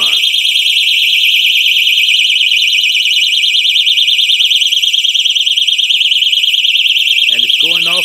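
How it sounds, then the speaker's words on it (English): A smoke alarm shrills in a continuous pulsing high-pitched tone for several seconds, loud and close, with a short burst of speech at the end. "Well, that's the alarm."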